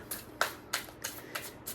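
Tarot cards shuffled by hand in quick riffling bursts, about six crisp papery flutters spaced evenly, close and fairly quiet with no talking.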